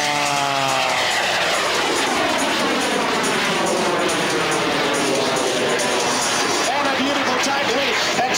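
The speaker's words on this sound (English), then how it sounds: "You've never seen an airplane perform quite like the jet-powered Waco flown by Mr. Jimmy Franklin." A jet-powered Waco biplane performs at the 2004 Quad City Airshow. Its loud, continuous roar rises and falls in pitch as it passes, with crowd noise and talk beneath it.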